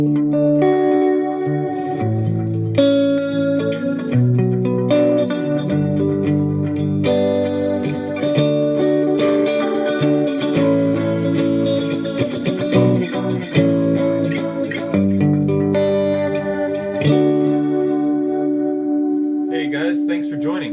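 Strymon delay pedal with modulation set for a deep, spacey sound, playing sustained guitar chords that swell and wash with chorus-like wobble, echoes and reverb, loud and continuous for about twenty seconds, with a brief voice near the end.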